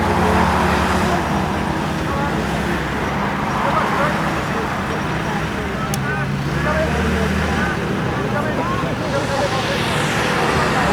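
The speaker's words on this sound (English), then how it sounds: "there it is the Dodge Command Car which comes to the rescue of old James in his Jeep" A WWII-era Dodge Command Car military vehicle drives past at a steam rally, its engine rumble and road noise mixed with steady crowd murmur throughout.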